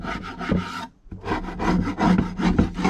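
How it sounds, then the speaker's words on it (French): A hive tool scrapes propolis off the wooden parts of a beehive in repeated rasping strokes. The scraping is close and loud, with a brief pause near the middle and no voices. "Ensuite, tout ce qui est propolis, je gratte propre."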